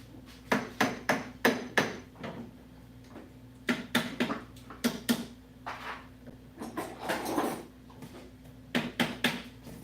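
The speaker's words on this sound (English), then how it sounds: "A little hammer, an actual hammer" Sharp hammer taps come in quick bursts of three or four, pausing between groups, close and crisp with a slight ring.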